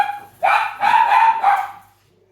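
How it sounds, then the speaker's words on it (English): A dog barks indoors during a casual gaming chat: a few drawn-out, whiny barks close to the microphone, then fading to quiet. "if we can chat without dogs barking"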